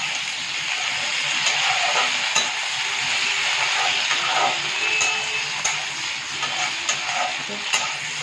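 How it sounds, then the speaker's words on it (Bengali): Onion sautéing with tomato and green chili for a bottle gourd and fish curry: a steady sizzle and hiss of frying, with brief stirring scrapes and clinks at intervals throughout, close and fairly loud, no voices. "টমেটো আর কাঁচা লঙ্কাটা দিয়ে পেঁয়াজের সাথে ভালো করে আবার কষিয়ে নিতে হবে।"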